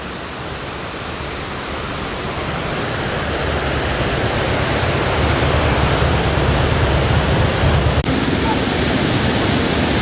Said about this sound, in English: the water from the waterfall here is just adding to the water in the river